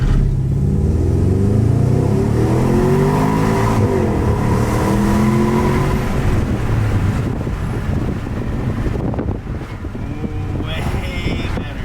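Porsche Cayenne Turbo fitted with a new exhaust, revving loudly nearby: a deep engine note rises and falls in pitch through a few throttle blips, with wind buffeting the microphone and some background voices.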